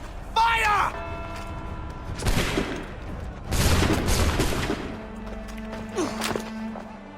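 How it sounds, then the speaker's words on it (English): Muskets fire in a ragged volley in Assassin's Creed 3 on a Boston street, loud cracking blasts tumbling over each other in two main bursts, with a shouted voice just before and a low hum after. "Fire!"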